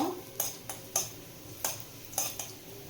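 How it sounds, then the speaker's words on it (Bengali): Grated coconut is stirred in melted ghee in a pan, a series of about six soft utensil scrapes and clinks in an uneven rhythm, close by and quiet. "ঘিটা মেল্ট হয়ে গেছে এরপর নারকেল কুচিটা দিয়ে দেব প্রথমে একটু নাড়িয়ে নেব"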